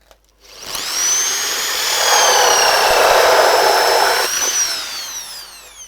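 A power drill bores a hole in an aquaponics float raft, spinning up and holding a loud, steady whine for about four seconds before winding down, close and without talk.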